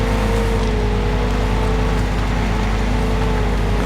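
The C-6317 logging truck engine revs hard in MudRunner, a loud, steady droning whine held at high revs close by, alone without talk.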